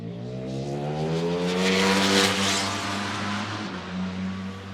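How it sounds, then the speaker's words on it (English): A racing motorcycle screams past on a track during a Ducati Panigale V4S test day, its engine note rising and then falling as it sweeps by. The sound is loud and fairly close, with no talk over it. "Johan Zarco's just flying by"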